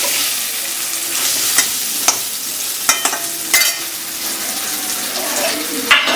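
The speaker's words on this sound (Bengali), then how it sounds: "আলুগুলো একটু ভেজে নিই" Potatoes frying in oil in a pan for a rohu fish curry, a steady close sizzle with scraping stirs and a few sharp clinks of utensil against the pan.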